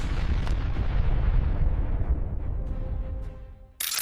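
A heavy Hellfire missile explosion hits a vehicle, booming and then rolling away in a long, fading rumble, with a few faint distant pops before a sudden loud burst at the end.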